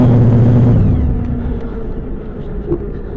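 A car's engine surging by itself at idle, a loud, close, low rumble whose pitch sags and settles as the revs drop away, with a faint knock near the end.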